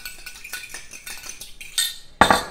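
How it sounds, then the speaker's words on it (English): A doTERRA geranium oil solution whisked in a container, with rapid clinking and scraping of a metal utensil against the sides in quick bursts, close and clear with no voices. "just whisk it up, you know, whisk up that solution, get it nice and mixed"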